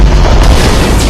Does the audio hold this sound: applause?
no